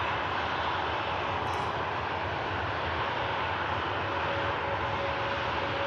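Jet aircraft departing Manchester Airport, a broad steady roar of engines sustained throughout, moderately distant with no talk.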